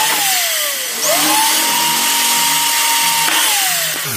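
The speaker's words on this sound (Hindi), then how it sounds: "पंच करने के बाद में दोस्तों ड्रिल करना शुरू करते हैं ये मैं ड्रिल कर रहा हूँ" Electric drill boring holes into the metal chassis of a 3 kVA voltage stabilizer, a steady whining motor tone that rises and falls in pitch as the bit bites and releases, loud and close with no talking.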